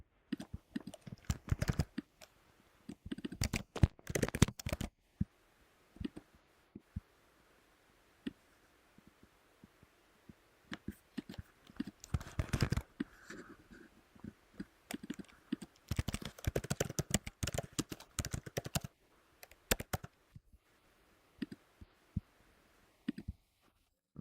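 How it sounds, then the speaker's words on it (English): Arrow keys pressed on a computer keyboard while moving selected objects in Inkscape: clusters of rapid, close, crisp key clicks in bursts separated by brief quiet gaps, with no talk. "You can also move objects with the arrow keys on your keyboard when they're selected."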